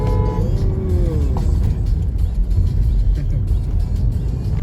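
A car drives steadily with road and engine noise filling the whole stretch at loud, close level; brief whining engine tones rise early on as it picks up speed.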